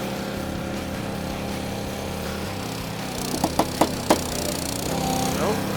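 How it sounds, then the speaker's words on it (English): A 2265 two-way log splitter runs with a steady engine drone, then a few sharp knocks and cracks come as a log splits, close by with a faint voice in the background. "Two-way log splitter."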